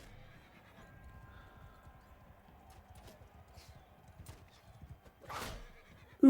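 A horse in the video game Mount & Blade 2 Bannerlord neighs and its hooves clip-clop faintly amid battle noise, with a sharper burst near the end.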